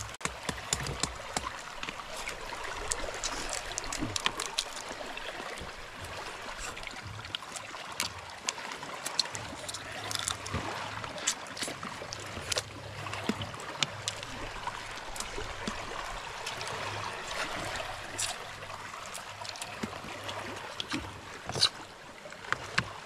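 Continuous watery splashing and rushing of a boat moving through water, with scattered knocks and faint voices in the background.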